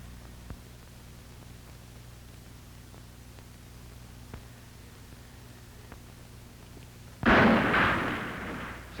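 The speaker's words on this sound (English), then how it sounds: "Sounds like an explosion." In a 1940 Western film, after several quiet seconds of low hum and faint ticks, a sudden loud explosion bursts in and rumbles as it fades.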